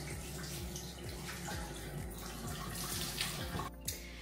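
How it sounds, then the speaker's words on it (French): A tap runs as a face is rinsed at a sink, giving a steady close rush of water with irregular splashes and drips and no talk. "Et je viens passer ça sur mon visage, rincer."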